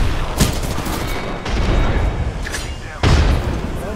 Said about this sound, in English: Grenade. Oh, that's grenade.